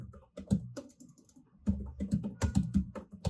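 Keys clatter on a computer keyboard in two busy bursts separated by a short pause while JavaScript code is entered, close and fairly loud, with no speech.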